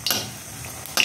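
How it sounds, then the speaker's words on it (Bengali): Three dried red chillies fry in oil in a pan and are stirred, giving two quick scraping strokes at the start and end over a soft, steady sizzle. "আর দিয়ে দেবো 3টে শুকনো লঙ্কা। একদম সিম্পলভাবে ভাজবো"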